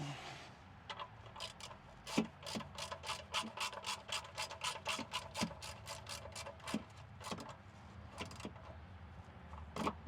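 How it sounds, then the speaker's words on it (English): A socket wrench tightens an oil drain plug during an oil change, ratcheting in quick, even clicking runs with brief pauses, close and fairly faint. "we're going to take our socket and we're going to go ahead and tighten it up"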